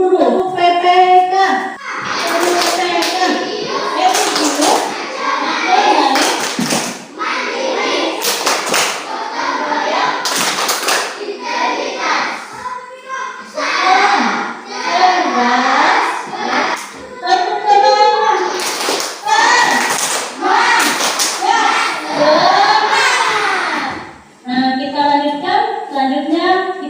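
Children perform a rhythmic clapping routine in a classroom, sharp claps in patterned bursts with chanting voices throughout, loud and close.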